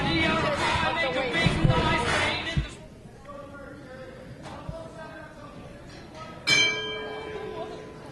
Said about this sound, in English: And that's the bell for round 2